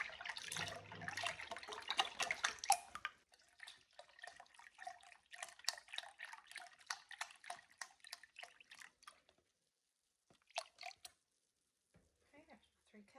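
Chicken broth poured into a measuring cup in a home kitchen, a close liquid stream splashing and trickling for several seconds, then a few brief drips and pours after pauses.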